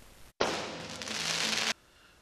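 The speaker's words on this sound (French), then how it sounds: "Voici le déroulement des feux d'artifice à Franceville." Fireworks launched in a battery at a display in Franceville, Gabon, with shells of different colours and shapes reaching 30 to 90 metres: a loud, sustained crackling burst lasting over a second after a brief silence, with no talk.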